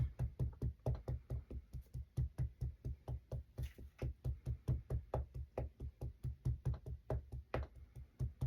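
A rubber stamp is pressed repeatedly onto paper while making journal tag bases, giving a fast, steady run of soft dull thuds, close and quiet, about three per second.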